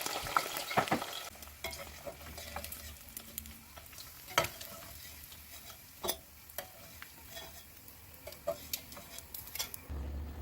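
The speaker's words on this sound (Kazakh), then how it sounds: "Қойдың құйрық майында біраз қуырып аламыз" Onions or meat sizzling in rendered sheep tail fat for maqluba, a steady close fry with scattered clicks and utensil stirring scrapes throughout, no talk.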